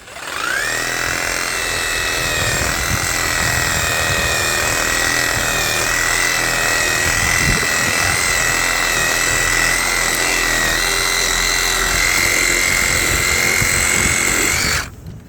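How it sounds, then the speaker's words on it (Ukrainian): A reciprocating saber saw cuts through tree branches in one long, loud, continuous run, its motor whine holding steady with a buzzing rasp of the blade for about fourteen seconds before stopping. "Як сабельна пилка ріже гіляки?"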